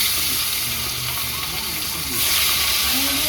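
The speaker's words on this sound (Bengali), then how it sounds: "মাছটা দিয়ে দেবো, মাছটা ভেজে নেবো।" Fish frying in a pan for a Bengali village dish, a steady broad hiss and sizzle of hot oil that swells louder near the end, with no talk.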